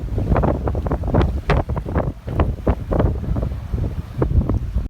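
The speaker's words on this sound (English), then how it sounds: "It's still really windy." Strong wind buffets the microphone aboard an anchored sailboat in the Bahamas, heavy irregular gusts making a loud rumbling roar that surges and dips continuously without pause.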